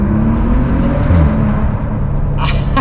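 A Maserati Ghibli's engine drones loud and close in a sustained low rumble, with a brief crackly burst near the end that could be an exhaust pop.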